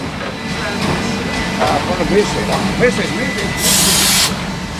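A heritage steam train, the Q Train running between Geelong and Queenscliff in Victoria, gives a steady mechanical rumble and a loud burst of steam hiss near the end, with people talking over it.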